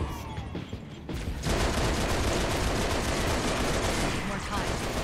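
Turret gunfire in the video game Halo Reach opens with a few sharp shots, then turns into a dense, loud, sustained burst of rapid automatic fire that carries on to the end.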